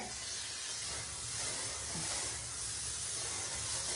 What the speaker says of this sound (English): Just going to give it a good spray